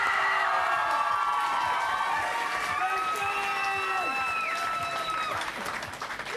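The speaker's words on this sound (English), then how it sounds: "Thurston, Lee and Kim, give them another round of applause." A studio audience at a television show applauds and cheers continuously, dense clapping with whoops and voices layered over it, staying loud throughout before easing slightly at the very end.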